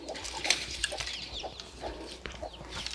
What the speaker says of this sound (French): C'est mes poules.